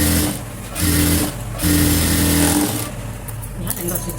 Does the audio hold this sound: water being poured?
no